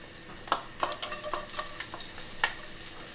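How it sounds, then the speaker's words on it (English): Ginger and garlic hit hot, nearly smoking vegetable oil in a pan for stir-fried shrimp and spinach, giving a steady crackling sizzle with scattered sharp pops and spatula clicks, close and moderately loud, with no talking. "The oil is now nice and hot. We'll add the ginger"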